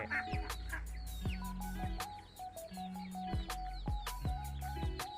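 A flock of chickens and young chicks in a backyard coop clucks and peeps busily, with overlapping calls, sharp chirps and short clucks repeating throughout, fairly close and lively, without talk.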